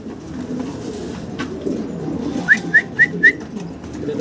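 Tiger-colored Mundian pigeons coo at low volume in the background, then four quick, evenly spaced bright calls ring out close by in a short burst.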